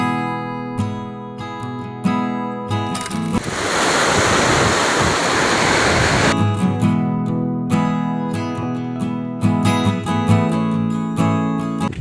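Music plays, then cuts to about three seconds of loud, churning floodwater rushing before the music returns.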